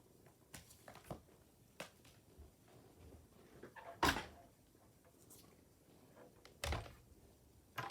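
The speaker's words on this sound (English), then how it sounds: "Let me clear the surface a little bit so we can get the cut and emboss machine" A cut and emboss machine being set down on a crafting work surface, heard as a few faint knocks and two sharper thuds in a quiet room, with small handling noises between.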